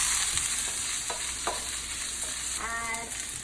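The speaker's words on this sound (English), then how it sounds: "in a stir fry, we're constantly keeping everything moving and sauteing over this really high heat" Mushrooms and zucchini stir-fried over high heat produce a constant close sizzle, punctuated by a few quick spatula scrapes and a brief clatter near the end, with no talking.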